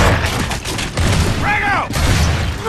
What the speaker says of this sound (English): Incoming grenade!